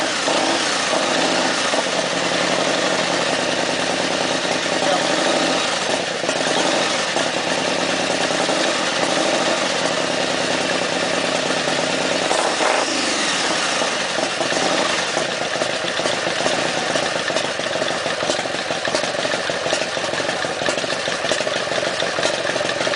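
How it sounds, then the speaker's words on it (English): A motorcycle that has sat unused for about two weeks runs on a cold engine in hot weather, holding a steady, loud, close idle throughout with slight fluctuations in the engine note. "That bike hasn't been started for 2 weeks probably, and it's idling."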